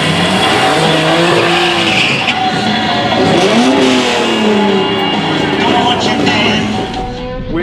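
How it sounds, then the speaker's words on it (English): A Tesla drag races a highly tuned BMW M3 Competition on an eighth-mile track. Loud, close roaring engine and tire noise with squealing, revving tones holds for several seconds before easing slightly at the end. "our next race is against this BMW M3 Competition"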